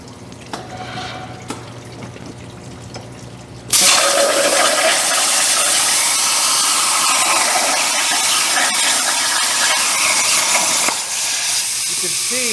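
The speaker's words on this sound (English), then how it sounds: "Let's go ahead and turn on the injection system" An RC6 cutting machine with a water injection system starting up after a quiet stretch, a sudden loud rushing hiss of water and air that continues steadily, shifting slightly near the end.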